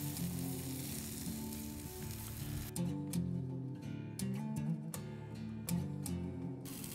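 Boerewors sausage and lamb chops sizzle on a braai grill, a steady close crackling fry with occasional sharper pops and spits.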